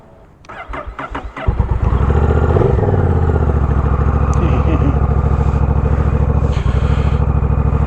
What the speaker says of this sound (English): figured we get a start of the bike here for you